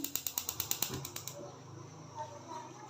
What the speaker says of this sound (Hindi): फ्लेम को कर देती हूँ ऑन।